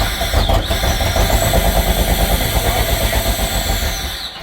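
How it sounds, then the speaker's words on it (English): A Pontiac Fiero engine being throttled, a loud, close, rough running drone with rapid pulsing that holds steady for several seconds before easing off. "That was me throttling it."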